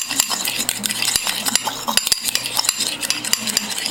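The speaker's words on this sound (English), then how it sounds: "We're gonna mix up the mustard and the mayonnaise." A utensil mixes mustard and mayonnaise together in a bowl, producing quick repeated scraping and clinking strokes in a steady rhythm, close by with no talk.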